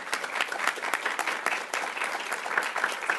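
A live audience claps for a congressman as he is welcomed to the stage, producing dense, lively applause with clear individual claps, fairly close and continuous throughout.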